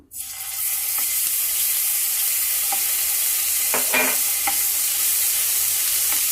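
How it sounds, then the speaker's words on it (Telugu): Ginger garlic paste hitting hot oil, a sudden loud sizzle that settles into a steady close hiss, with a few faint stirring clicks and no talking. "ఫస్ట్ మనం అల్లం వెల్లుల్లి పేస్ట్ వేసుకుందాం ఆయిల్లో"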